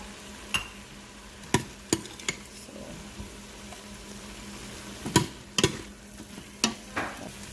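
Ground beef being sautéed in an Instant Pot, a soft steady sizzle broken by a dozen sharp scrapes and clacks of a utensil stirring against the pot.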